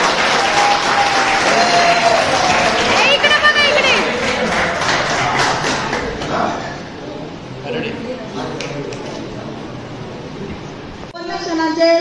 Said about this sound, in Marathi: जोरदार टाळ्या झाल्या पाहिजे.